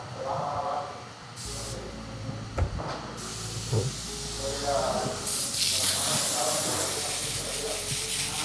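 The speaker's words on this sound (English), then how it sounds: "we gotta spray it down with soap and water" Soap and water sprayed onto a car windshield, bursts of loud hissing spray that start and stop, then a longer sustained spray, with people talking in the background and a few clunks.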